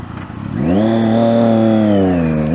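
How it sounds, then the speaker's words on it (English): A Triumph Daytona 675 sport motorcycle engine, close and loud, revs up sharply from a low idle and holds a high, steady roar before easing slightly. "this motorcycle looks so sexy and sounds so sexy"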